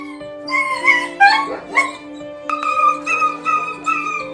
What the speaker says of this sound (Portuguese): Um policial ouviu os gritos de um cachorro infeliz que acidentalmente se enroscou em algum tecido